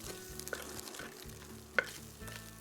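Garlic and tomato paste with a pinch of crushed red pepper sauté quietly in a pan: a faint, low sizzle with soft stirring and one sharp clink near the end.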